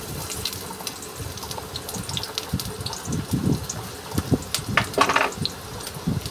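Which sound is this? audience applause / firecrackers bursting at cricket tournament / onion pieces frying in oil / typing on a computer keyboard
onion pieces frying in oil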